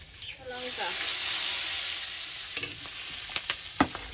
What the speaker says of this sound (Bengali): কড়াইতে তেল দিয়ে দেব পাঁচ ফোড়ন শুকনো লঙ্কা আদা